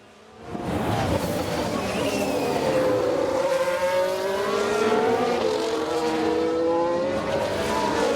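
A Ferrari Formula 1 race car engine in the F1 Manager 22 racing game, a sustained high-pitched engine whine that fades in, then holds with shifting pitch as the car accelerates and changes gear.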